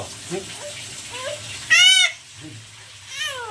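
A small child in a village home lets out a short, loud wailing cry close by, followed by a softer whimpering cry near the end over light background noise.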